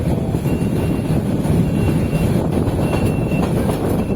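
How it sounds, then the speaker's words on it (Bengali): Another train rumbles past close by in a steady, loud, unbroken roar of rolling wheels and carriage noise, with no voices. "এদিকে মনে হয় আরেকটা ট্রেন যাইতেছে।"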